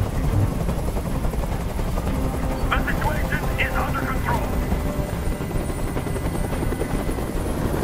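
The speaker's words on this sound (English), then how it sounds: "Tell that helicopter to get out of here!" A helicopter thrums steadily and loudly overhead throughout a tense hostage standoff, its rotor drone persisting under a man's brief speech.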